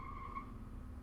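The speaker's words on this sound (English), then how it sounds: "Somebody's peeling out somewhere." Distant tires squeal thinly as a car peels out on a busy street, faint and drawn-out before fading, with no one talking.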